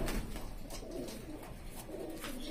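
Soft, low coos of a breeder pigeon repeat in gentle rolling phrases, close by, with faint rustling in the background.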